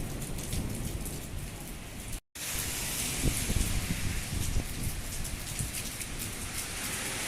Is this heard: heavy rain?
yes